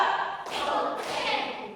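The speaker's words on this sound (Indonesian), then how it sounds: "Tepuk 1. Keras ya. Tepuk 2." Classroom students clapping together on a teacher's count, two brief bursts of group claps a moment apart, fairly faint and roomy.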